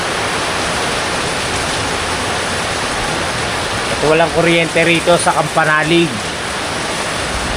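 Heavy rain pours steadily as a dense, loud hiss that fills the whole stretch, with a person briefly talking over it near the end.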